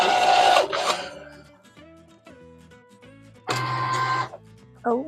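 A Cricut cutting machine measures a mat loaded with Cricut-branded glitter iron-on vinyl, giving short motor whirs and carriage movements in bursts, with a loud stretch near the end and a brief mechanical squeal.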